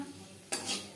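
Dried red chillies dropped into hot oil in a wok give a sudden bright sizzle halfway through, following a quiet low hum, then a brief swell of spattering frying.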